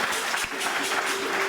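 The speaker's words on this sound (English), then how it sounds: "If it was so, clap your hands." An outdoor World Tourism Day crowd claps hands in a short, steady patter of applause heard at moderate distance.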